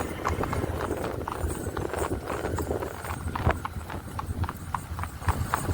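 A 23-month-old mare walks close by, her hooves clip-clopping in a steady rhythm of distinct knocks, with faint talk in the background.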